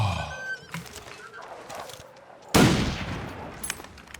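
A single sharp gunshot from a rifle in The Long Dark, loud and close with a booming decay, heard amid tense game ambience with scattered scrapes and movement sounds before it.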